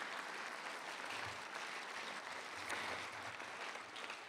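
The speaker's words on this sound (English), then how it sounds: "that deserves a round of applause" A commencement audience claps steadily for several seconds, a broad, dense wash of applause in a large hall with no pause.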